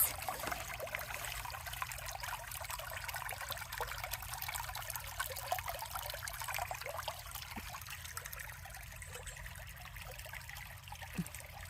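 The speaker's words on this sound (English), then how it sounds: "Sounds like a little rushing river." Steady, soft rushing and trickling of a flowing creek, continuous and a little distant, with no voices.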